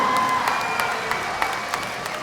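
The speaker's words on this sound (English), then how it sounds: "please give them a round of applause, a wave, a shout out." Audience applause and light cheering at a college graduation ceremony, a continuous wash of clapping from a large crowd in a big hall with scattered louder claps, moderately distant.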